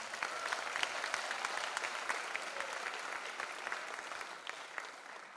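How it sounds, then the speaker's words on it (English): Sustained applause from a sizable crowd at a United States Air Force Band performance, dense and steady clapping filling the whole stretch at an even, lively level. "One more round of applause for them."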